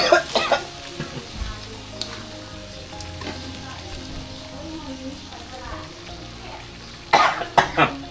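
Chicken and chili stir-fried in a pan at a campsite, steady sizzling under scraping stirs, with a voice speaking and coughing now and then before louder clatter near the end.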